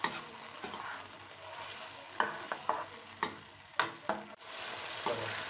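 Yogurt being stirred into chicken karahi with mashed tomato in a pan, a steady soft sizzle under scattered scraping clinks of a spoon against the metal, moderately quiet with no voices.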